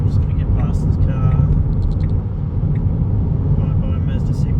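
Tesla on Autopilot overtaking a Mazda 6 on an Australian road, heard from inside the cabin as a steady low road and tyre rumble with a faint passing swell, a voice speaking over it.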